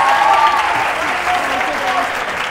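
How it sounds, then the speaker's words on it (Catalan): Studio audience applause for contestants on a Catalan television quiz show, continuous clapping with voices audible over it. "Aplaudiment per ells."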